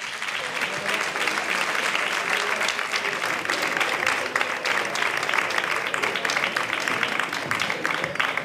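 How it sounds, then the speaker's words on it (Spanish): Steady, dense applause from an audience greeting a flamenco troupe at an International Flamenco Day event in Manilva, loud and sustained throughout with no break. "Un fortísimo aplauso para ellos."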